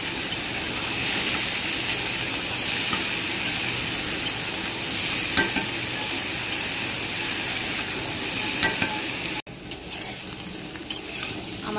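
A potato and jackfruit dish (alu ichor) is stirred in an oily pan, with a continuous close sizzle and repeated scraping strokes. A brief break near the end is followed by a slightly quieter sizzle.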